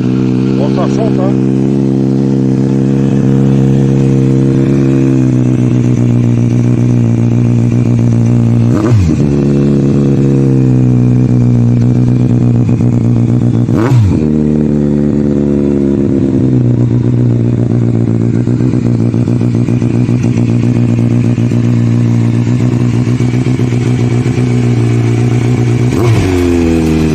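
Kawasaki Z900 with a Scorpion exhaust, loud and close, holding a steady deep idle broken by several sharp throttle blips that rise and fall back, spaced irregularly over the run.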